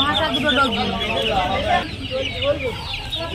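Chickens cluck and chatter close by at a poultry market in Nepalgunj, a busy layered flurry of bird calls over general market noise.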